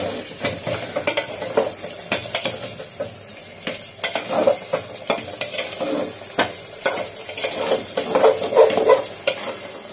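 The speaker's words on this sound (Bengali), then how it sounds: "এবার ভালো করে এটাকে কষাবো" Goat meat frying with coriander and spices in an aluminium pot, a low continuous sizzle under frequent close scraping and clinking strokes of a metal spoon against the pot, with no talk.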